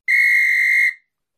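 A single sharp referee-style whistle blast, loud and close, held steady for just under a second before cutting off cleanly into silence, opening a college sports segment with no voices over it.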